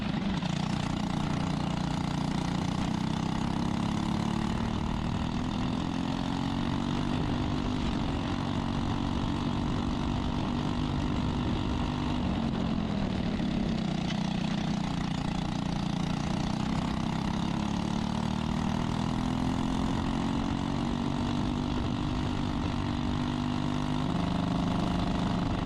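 Continuous drone of small 10 horsepower go-kart engines racing in an entry-level open class, a dense buzzing roar that rises and falls in pitch as karts pass and accelerate, steady and loud throughout with no talk.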